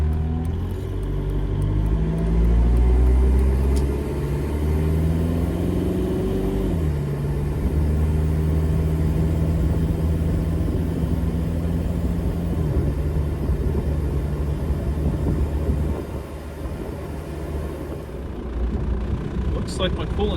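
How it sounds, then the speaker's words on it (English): Diesel engine in a TJ Wrangler idling with a loud, deep, trembling rumble and a steady low drone throughout, while a person talks over it. "At idle, this thing's loud because I have a lot of trembles."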